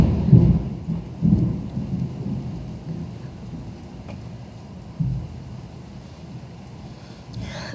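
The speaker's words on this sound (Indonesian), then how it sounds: "Petir, geledek. Suara petir." Deep rolling thunder booms over steady heavy rain, with several low rumbles in the first seconds and another near the fifth, the downpour hissing continuously throughout with no voices.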